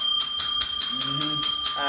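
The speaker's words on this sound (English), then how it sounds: "This is our bell." A bright bell rings in quick, evenly spaced strikes, about eight in a row, close and loud, with a brief voice near the end.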